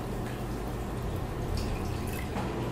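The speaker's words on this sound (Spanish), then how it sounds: "y le vamos a poner el 1/2 litro de agua" Half a litre of water poured onto a kilo of sugar in a pot, a steady close splashing, trickling pour with no talk.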